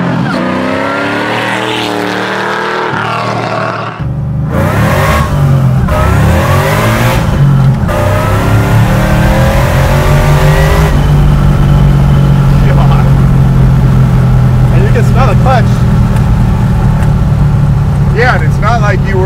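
A 1,000-horsepower supercharged LS3 V8 in a Chevy Nova Pro Touring build accelerates at near full throttle with a slipping clutch, its loud, close engine note climbing through revs beneath occasional talk.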